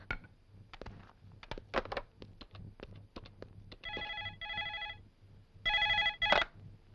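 A telephone rings during a call: a string of sharp clicks and taps, then two bursts of an electronic ringing tone, fairly close and clear against a quiet background with a low steady hum.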